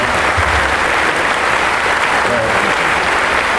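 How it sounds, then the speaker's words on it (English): A town hall audience at a Resolution Copper mining meeting in Superior breaks into loud, dense applause, a steady wash of many hands clapping that holds at full strength throughout, with voices mixed in. "So give them a round of applause."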